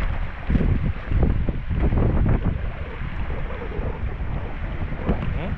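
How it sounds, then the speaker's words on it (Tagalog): Strong wind at a seaside fishpond buffets the microphone in a steady roar, with gusty rumbling and a faint high whistle throughout; no voices. "Pagpasensyahan nyo na po kung medyo sumisipol po yung hangin."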